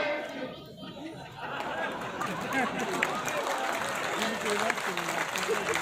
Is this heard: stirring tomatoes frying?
no